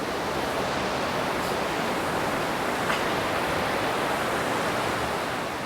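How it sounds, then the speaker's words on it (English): Rushing river rapids roar steadily at Rushing River Provincial Park, a dense continuous wash of sound with no pauses, fairly close and even. "the sound of rushing water"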